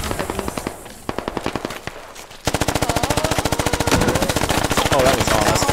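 Automatic machine gun fire in the military shooter game Squad: a few rapid bursts, then a long sustained stream of loud, evenly spaced shots.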